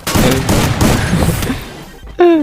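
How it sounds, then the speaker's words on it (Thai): A shotgun fires repeatedly in the mobile game Free Fire MAX: a loud, dense burst of booming shots crowding the first half, thinning out before a sharp tonal effect cuts in at the end. "ผมเอาซองยาวไปยิงอ่ะ"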